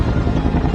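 Cartoon helicopter sound effect, a loud continuous rotor chop and whir that holds steady throughout, with no voices over it.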